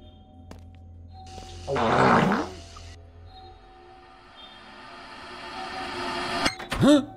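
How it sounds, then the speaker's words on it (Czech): A fart sound effect triggered by a viewer during a livestream of a spooky horror game, a brief low rumbling burst standing out clearly, followed by quieter hums and a couple of short sharp sounds near the end. "Kdo zas poslal ten prd"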